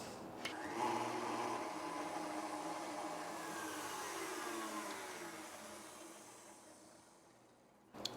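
Handheld electric beaters whip eggs for a sweet cream cake until pale and thick, a steady, faint motor whir running for several seconds and tapering off, with a click at the finish.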